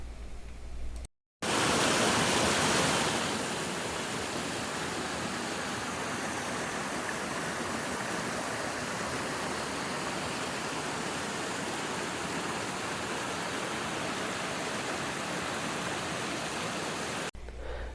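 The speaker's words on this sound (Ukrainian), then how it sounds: "струмочок ставав все мілкіший і мілкіший" Mountain stream flowing over stones along the Stohivets brook, a dense, steady rushing and splashing of water, close and fairly loud, broken by a short gap near the start.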